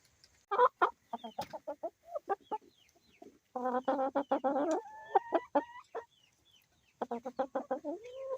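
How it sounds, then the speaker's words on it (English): Chickens clucking close by on a small homestead, in bursts of rapid, repeated notes, pausing between flurries, with a few longer calls mixed in. "That's going to be one gorgeous rooster."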